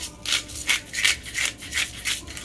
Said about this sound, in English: that was a crushed pepper with the grinder